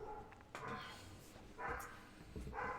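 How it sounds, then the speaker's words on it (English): Dogs bay and bark faintly in the distance, a few rough, echoing calls rising over a steady low background hum. "I hear distant demon dogs"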